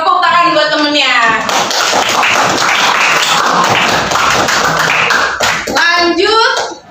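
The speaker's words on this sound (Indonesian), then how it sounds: "Tepuk tangan buat temennya." Schoolchildren in a classroom clap for a classmate, a burst of dense, loud applause lasting several seconds, with a teacher's voice speaking just before and after.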